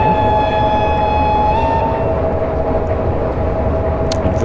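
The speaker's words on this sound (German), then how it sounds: "Auf jeden Fall, wir hupen. Wir pfeifen jetzt." A Krokodil electric locomotive in Train Simulator 2013 sounds a loud, steady multi-tone whistle for under two seconds, then it cuts off and leaves a constant low rumble of the train running.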